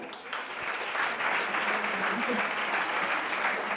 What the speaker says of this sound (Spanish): Vamos a darle un aplauso también.